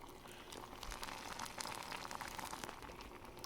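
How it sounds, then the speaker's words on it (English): French fries bubbling in hot oil on a stove, a soft, dense crackle and fizz of boiling oil with small pops, fairly quiet and steady, no talk. "you see how they're kind of boiling now?"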